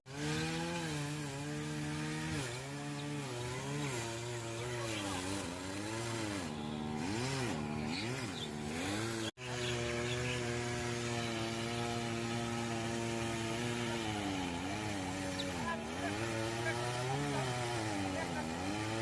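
A chainsaw cuts into a tree from the side opposite the back cut, its engine revving and bogging in long wavering pulls. The loud, close whine runs throughout, with a brief dropout midway.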